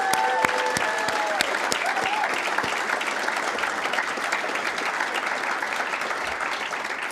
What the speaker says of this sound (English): can we please have a round of applause for the Right Honourable Winston Peters and his amazing team